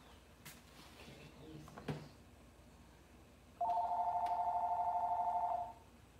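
A telephone rings once with a steady electronic trill for about two seconds in a quiet home. A few soft knocks and rustles come before it.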